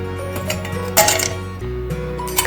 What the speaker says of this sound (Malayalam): ഫസ്റ്റ് നമ്മൾ 2-3 ഐസ് ക്യൂബ്സ് എടുക്കും